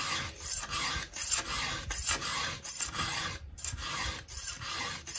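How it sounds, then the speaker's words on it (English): A hand file rasps across a chainsaw chain tooth in steady, repeated strokes, each a close, gritty scrape with short pauses between, about six passes in a row with no talking. "This was my last tooth I'm filing right here."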